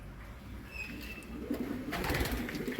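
Pigeons in a breeding loft coo softly and faintly among the nesting birds. The sound is low and murmuring over a steady background hum, and no voices are heard.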